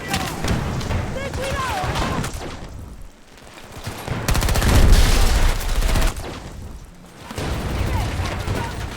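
Rapid gunfire bursts and explosions in Battlefield 2042, loud overlapping shots in dense volleys broken by two short lulls, with a player talking over the action.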